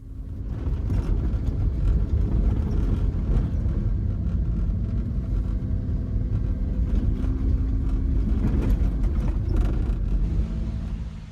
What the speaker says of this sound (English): It picked up a lot of surrounding sounds as well, mainly the cars.